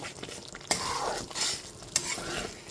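Masala with tomato, salt and a little sugar fries in a pan while being stirred, a close continuous sizzle broken by two sharp spoon-scrape accents and rhythmic stirring swishes, with no voices.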